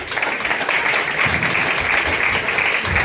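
At a school fair, a crowd breaks into sustained, dense applause, loud and steady with a few lower thumps beneath the clapping.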